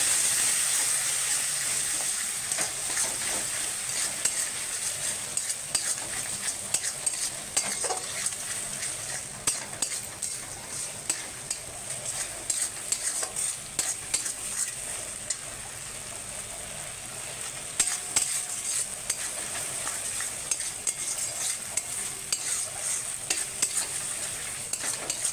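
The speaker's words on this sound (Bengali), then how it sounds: "আমি এটাকে ভালো করে ভেজে নেবো।" Sliced raw green banana and eggplant frying in hot oil with a little salt and a few grains of sugar, a steady close sizzle with stirring scrapes running throughout, no voices.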